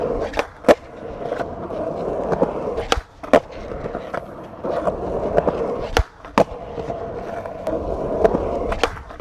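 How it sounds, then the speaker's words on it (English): A skateboard at a skate park doing frontside airs and blunts: wheels rolling and grinding across the transition, broken by several loud, sharp board slaps and landings. "gonna try and do some front side little airs here, maybe some blunts, and just keep skating until I overheat"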